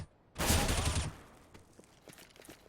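A sharp burst of rapid gunfire rings out in Counter-Strike on the Dust 2 map during a Balkans tournament grand final, then fades into a trail of scattered lighter shots and clicks.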